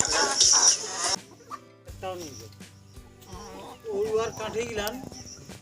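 Chickens cluck on a rooster farm in Jaipur, with a loud burst at the start followed by scattered clucks and calls, while someone talks over them throughout.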